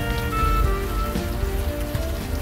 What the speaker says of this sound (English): You're walking the streets in the rain